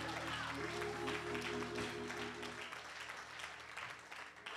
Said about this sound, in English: would you just give him another hand clap of praise?